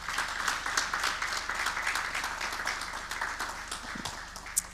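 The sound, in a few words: applause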